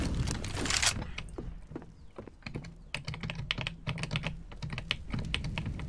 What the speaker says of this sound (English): We hear your keyboard too much?